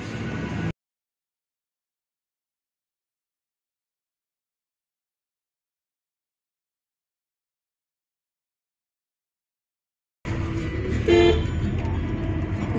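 After a long stretch of silence, busy road traffic returns near the end, a dense rumble of engines with a short car horn toot cutting through.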